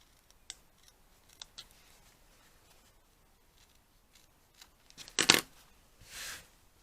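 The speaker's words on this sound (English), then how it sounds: "it's a bit thicker than cotton, so cut the ends" Scissors snip through the thick ends of linen fabric, a few faint scattered clicks first, then a sharp, close, crisp cut near the end followed by a softer rustle.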